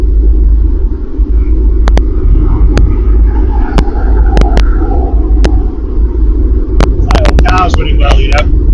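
A Triumph Stag V8 cruising at around 60 mph, a loud, steady low engine drone and road rumble filling the cabin throughout, with a voice talking faintly over it.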